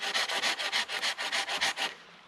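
Hand saw cutting through thick timber outdoors for a natural cordage tripod, about a dozen even back-and-forth rasping strokes, close and clear, slowing to a stop at the end with no talking.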